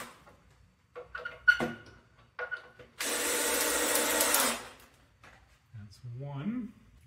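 A drill drives screws into wood for a bicycle rack, one steady whirring burst of about a second and a half, close and loud, set between sparse handling knocks and followed by a man's speech.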